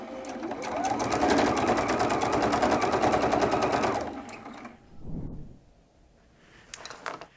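A sewing machine stitching fabric for an iPad case runs in a fast, steady rhythmic burst for about four seconds, then stops, followed by quiet handling noises.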